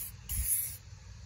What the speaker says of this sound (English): spray a little bit on there